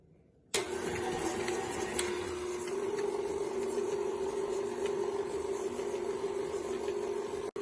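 Electric mixer creaming sugar and butter for banana walnut bread, a steady close motor whir that starts abruptly and runs on evenly without pause.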